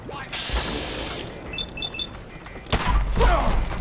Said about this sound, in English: It's only the gunshots because we're in an active battleground right now